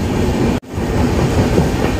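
The Dhauli Express passenger train runs on rails, giving a loud, close, continuous rumble and rattle of wheels and carriages, with a brief sharp gap in the noise partway through.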